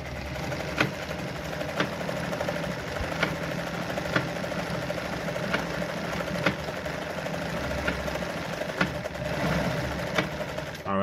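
A Brother Pacesetter ZZ2-B702F sewing machine runs continuously, a steady mechanical whir with regular ticking clicks about once a second throughout.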